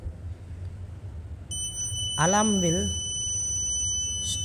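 A steady, high-pitched in-vehicle driver fatigue alarm tone switches on and holds over a low background hum, with a brief voice sounding over it.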